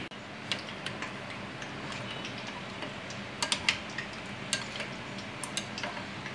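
Moong dal batter is mixed with ground green chillies in a bowl, giving soft wet stirring with scattered light clinks and taps of utensil on the bowl, fairly faint and steady with no talk.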